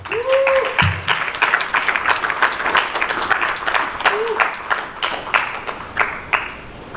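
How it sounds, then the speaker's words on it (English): An audience at an entrepreneurship conference applauds a speaker being introduced, loud and close, with distinct individual claps in the crowd, and brief voices heard near the start and partway through. "Let's get a round of applause for Morty Wiggins."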